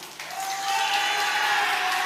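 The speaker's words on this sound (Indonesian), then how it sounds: "kami silakan kepada pendukung paslon nomor urut 1 terlebih dahulu untuk memberikan tepuk tangan kepada paslon yang didukung" A debate audience in a hall applauds its supported candidate pair, steady dense clapping that swells after a brief start and holds loud and continuous, with no talk.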